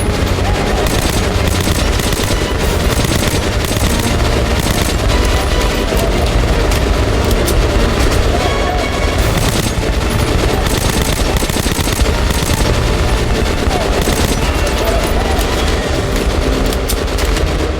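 Sustained gunfire from the first-person shooter Metro: Last Light, dense rapid bursts and heavy booms filling the whole stretch at loud, constant intensity with no talk.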